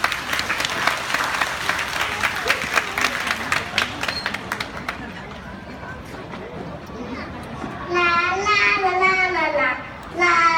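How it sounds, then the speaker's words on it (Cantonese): An audience at a graduation ceremony bursts into brisk clapping that fades after a few seconds, then children's and adults' voices take over. "我哋一齊俾啲掌聲佢哋啊"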